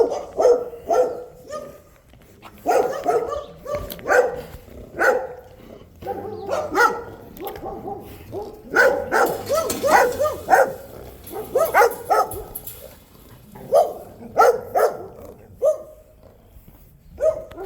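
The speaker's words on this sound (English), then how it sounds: "Sorry for the dogs barking." Neighbourhood dogs barking repeatedly outdoors, a steady run of sharp barks and yips at moderate distance with no talking.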